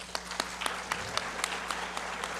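An audience applauds at a panel discussion on restorative justice in a formal hall. Scattered claps sound at moderate distance over a steady hum for the whole stretch, and no one speaks.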